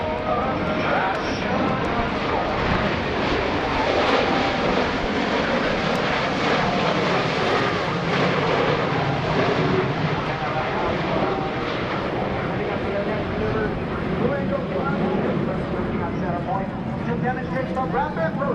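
US Navy Blue Angels F/A-18 jets at the 2016 NAS Oceana airshow, a loud continuous roar of engine noise that sweeps steadily throughout, with a public-address announcer talking over it.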